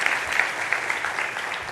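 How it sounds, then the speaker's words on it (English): A workshop group of storytelling exercise participants applauds together in a dense, steady wash of clapping for a brief moment, with no talking. "let's give ourselves a round of applause"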